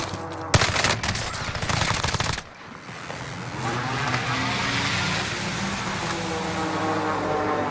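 Automatic gunfire in Warzone on Rebirth Island, a loud dense burst lasting about two seconds, then a steady hum of vehicle or helicopter engine noise under scattered distant shots.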